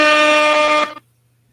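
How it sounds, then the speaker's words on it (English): A single loud air horn blast, a steady brassy multi-tone blare lasting nearly a second before cutting off abruptly, leaving a low hum behind. "Air horn."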